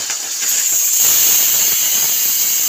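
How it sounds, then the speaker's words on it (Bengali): Fish heads coated in salt and turmeric fry in hot oil, giving off a steady, loud, bright sizzle that holds continuously without pause. "আমি এবার মাছের মাথা দিয়ে দিচ্ছি, নুন হলুদ মাখিয়ে ভালো করে কড়া করে মাছের মাথাগুলো ভেজে নেব"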